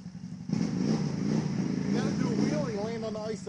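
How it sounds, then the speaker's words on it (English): A steady engine of a Gade 1000 amphibious quad bike, half quad and half boat, drones throughout while breaking ice, as people talk over it for most of the clip. "Half quad, half boat."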